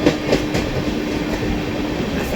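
Passing express trains rumble loudly and continuously up close as Aranyak Express overtakes Bengaluru Howrah Express, with steady rolling wheel noise and faint rail clatter throughout, no voices.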